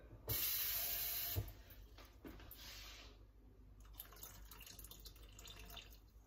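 Water is poured into a Thermomix bowl holding pot-au-feu ingredients. A fairly faint splashing pour runs for about a second, then settles into softer trickling and dripping, with no voices.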